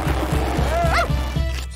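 A dog yips and barks over a busy, noisy background, with a rising whine-like tone near the middle; the dog is close and moderately loud amid other household sounds.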